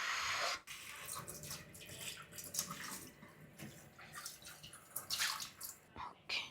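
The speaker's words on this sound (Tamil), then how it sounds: "இதை வந்து கீழே ஊற்றிட்டு இன்னொரு தடவை ட்ரை பண்ணலாம்" Coffee from an espresso machine is poured down a sink, a faint splashing, trickling flow with uneven drips and gurgles, soft and fairly close, with no talk.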